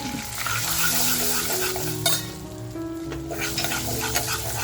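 Turmeric and homemade masala go into oil in a pan, giving a soft sizzle with stirring scrapes and light clinks of a utensil against the pan, close and moderately quiet.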